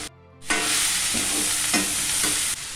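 Steady loud sizzling of finely chopped cluster beans stir-frying in a pan, with a few scraping stirs of a spatula.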